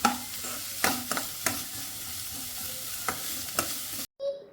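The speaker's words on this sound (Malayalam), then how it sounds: "സവാള ഇട്ട് കൊടുക്കാം ഈ സമയത്ത് ഫ്ലെയിം ഹൈയിലും മീഡിയത്തിലും വെച്ചിട്ട് നമുക്കൊന്ന് വഴറ്റി കൊടുക്കാം" Onions sautéing and being stirred in a pan for a snack, with a steady sizzle broken by repeated sharp scraping stirs, close and moderately loud, ending in a brief silence.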